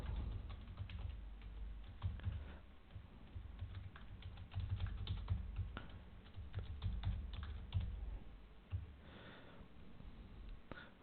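Someone types a call sign into ham radio logging software on a computer keyboard, a close, soft patter of uneven keystrokes with short pauses and a sniff, no talking.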